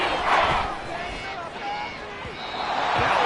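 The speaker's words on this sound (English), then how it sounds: "This crowd turning up the decibel level." Football stadium crowd roars loudly, swelling and easing in waves, with an announcer talking over the noise.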